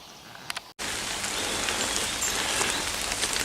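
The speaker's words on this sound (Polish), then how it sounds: "Pogoda się niestety nie udała, od rana pada." Steady rain falling outdoors around a beekeeping site with an artificial tree hollow, a dense, even patter on surfaces that begins abruptly after a short quiet moment and then continues without a break.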